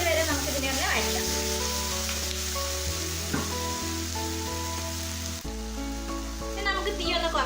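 Chopped tomatoes sauté in a pan with ginger and garlic, giving a continuous crackling sizzle with occasional stirring scrapes, close and fairly loud, while a voice talks softly in the background.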